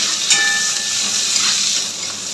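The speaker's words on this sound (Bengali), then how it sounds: "পেঁয়াজটা একটু ভেজে নিই," Sliced onions frying in hot oil in a home kitchen, a steady loud hiss and sizzle close to the pan with no talking.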